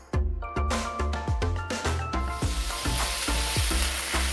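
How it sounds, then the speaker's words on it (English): Vegetables, leafy greens and chopped tomatoes sizzle loudly in hot olive oil for a morning omelet, with repeated sharp utensil scrapes and clanks against the pan at a steady stirring rhythm, close and continuous, with no talking. "I like to ensure I stir things around in order to coat the leaves and the vegetables with olive oil"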